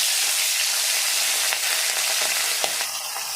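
Hilsa fish fries in hot oil in a heated wok, giving a loud, dense, continuous sizzle that holds steady throughout.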